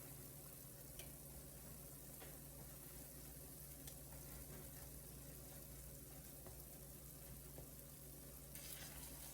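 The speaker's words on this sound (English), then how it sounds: "now I'm going to mix this jollof rice in" Jollof rice is stirred in a pot, giving a soft, continuous scraping and faint sizzling texture with a few light clinks of the utensil, quiet and steady throughout, with no voices.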